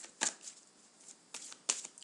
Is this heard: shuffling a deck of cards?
yes